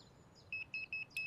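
Four evenly spaced electronic beeps of a single high tone, each about a tenth of a second, fairly faint against a quiet background, from a Sonik Gizmo2 electronic fishing bite alarm signaling a forward run.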